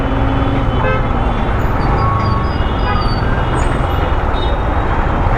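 A diesel 4x4 passes on the road, heard from a motorcycle amid dense, loud traffic rumble and wind noise, with a brief horn-like toot early on.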